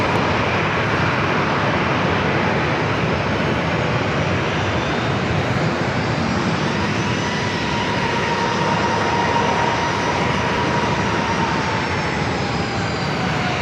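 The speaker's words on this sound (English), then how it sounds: "Canada Flight 1093 coming in from Toronto, Canada. Airbus A220-300." An Air Canada Airbus A220-300 jet arriving at San Diego airport produces a sustained loud engine roar with a faint rising whine, steady and close for the whole stretch, no talking.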